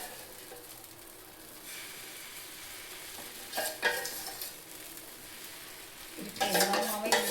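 Chapati batter is stirred in a pan, a low hiss with scraping strokes and clattering bursts of utensil against cookware, louder near the middle and at the end.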